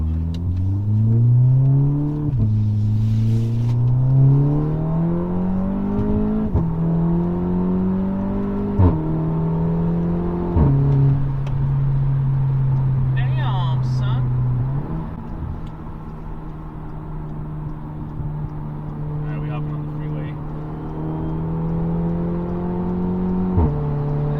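A 2016 Audi S3 fitted with an AWE Track Edition exhaust accelerates hard from a stop, heard from inside the car. Its loud droning exhaust note climbs through several gears, dipping briefly at each shift, then settles into a steady cruise.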